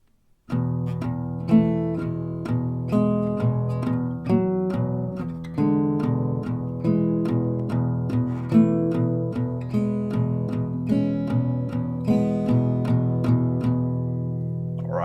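An acoustic guitar plays the intro of a song at a slowed tempo, with clear plucked notes and chords in an even rhythm, close and alone with no voices.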